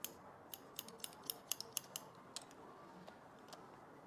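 Scissors snip a woman's short hair in a quiet room, with about a dozen crisp, close cuts coming in an uneven rhythm that slows and fades toward the end.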